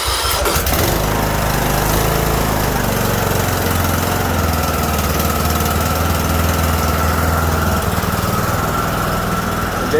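After its camshaft was replaced, a Craftsman riding mower's engine catches with a brief sputter and then runs loud and steady at a rough, throbbing idle, close by and continuous throughout with no speech.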